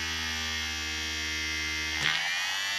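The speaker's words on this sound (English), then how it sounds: "You can hear the motor slowing down because the magnets are reacting with all the metalwork" Steady electric hum from a small motor in a disassembled vehicle speedometer, with its magnets near metalwork, droning close and even before a brief rustle near the end.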